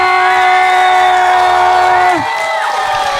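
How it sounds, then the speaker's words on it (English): Wrestling arena crowd cheering for a wrestler's entrance, a loud roar of voices layered with a sustained held tone that bends downward and fades, leaving a softer crowd murmur. "And the crowd goes absolutely bananas for Sam Eli."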